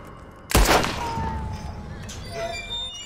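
A single loud, close gunshot from Red Dead Redemption 2 booms and echoes, followed by lingering rumble and faint distant movement.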